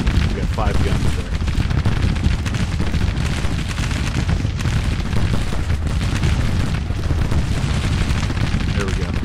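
A five-gun artillery battery firing in the Civil War strategy game Grand Tactician, with dense, continuous booming and volleys rolling together as a loud, sustained barrage of battlefield noise.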